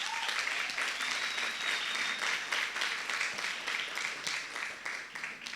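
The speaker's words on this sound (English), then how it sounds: "Can we give them a round of applause?" Sustained applause from an audience at a youth gathering, a soft, somewhat distant hiss of many hands clapping that stays steady throughout.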